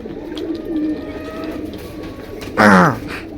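Pigeons offered for sale in pairs coo softly and steadily through a murmur of background noise, with one louder, throaty call rising close by near the end.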